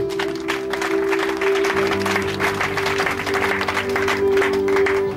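A church congregation claps continuously for several seconds, a dense, steady applause with a sustained tone in the background and some faint voices mixed in.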